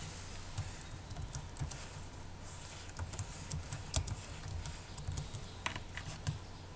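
Text is typed on a computer keyboard in quick irregular bursts of soft close key clicks over a quiet room background, with no speech.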